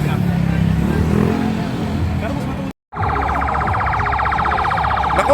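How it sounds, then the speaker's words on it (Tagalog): Ambulance siren following behind a cycling race in Palanan, a loud, rapidly warbling siren that starts after a brief break in sound, over road and engine noise with people talking. "Ambulansya na nasa likod mo."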